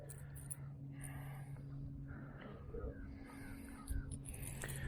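Crows cawing loudly in scattered bursts over a steady hum of outdoor noise, with calls coming from a distance and repeating across the stretch.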